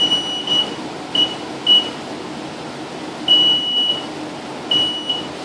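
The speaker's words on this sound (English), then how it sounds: "We slide them over a coated wire tag detector" Short electronic beeps from a coated wire tag detector repeat at irregular intervals as fish are slid over it on a wet table, against a steady mechanical hum.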